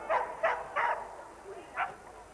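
Several sharp dog barks during agility training, three quick yaps in a row followed by a softer whimper and one more bark, fairly close, with faint background noise.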